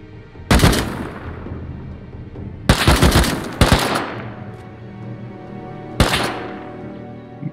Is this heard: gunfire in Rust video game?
yes